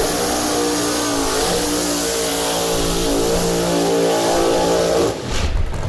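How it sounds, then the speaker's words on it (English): Drag-racing car doing a burnout, its engine revving loud and steady at close range, a sustained roar that drops off abruptly near the end. "I love a good burnout."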